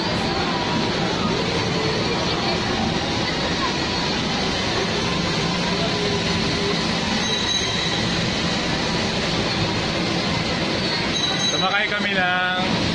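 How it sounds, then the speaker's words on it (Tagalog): Small train ride at SM Cebu mall rumbling along steadily with a constant broadband roar, some brief squealing tones near the end, and a busy indoor ambience with voices faintly in the background. "Sumakay kami ng tren"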